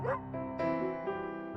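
A dog lets out a quick series of excited, yipping barks in close succession, loud and near, in a children's story.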